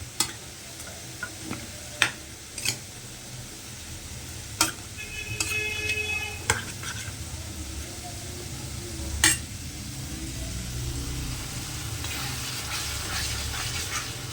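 Salted meat stir-fried in a pan, soft sizzling under repeated sharp clinks of a spoon scraping and tapping the metal pan, a few distinct knocks spread across the stretch, with faint background voices.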